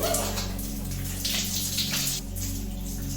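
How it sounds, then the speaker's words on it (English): A rain shower head pours water in a bathroom of a renovated 120-year-old fisherman's house, making a steady close hiss with brief louder splashing bursts and a low background hum. "Let's switch from the hand shower to the actual rain shower."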